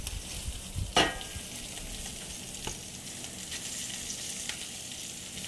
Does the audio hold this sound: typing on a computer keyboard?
no